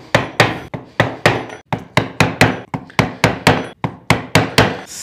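A wooden mallet strikes a carving chisel as it works around the outline of a wooden piece, about a dozen sharp woody knocks landing at a fairly steady, brisk rhythm, close and loud, with no voices.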